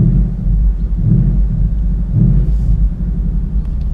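A Ford Mustang V8 of about 450 hp running in sport drive mode, its exhaust a heavy low rumble that swells in a couple of throaty surges, loud and close, with no talk.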